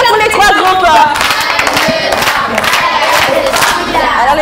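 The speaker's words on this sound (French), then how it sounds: "Alors, on acclame pour les trois groupes." A children's audience on a television show cheers and shouts in acclaim, a loud, dense burst of high young voices and crowd noise throughout.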